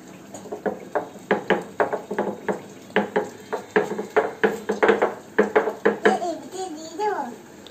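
A child grinds spices on a flat stone slab for a fish dish, making a close, steady series of rhythmic scraping strokes about three per second, with voices chattering over them.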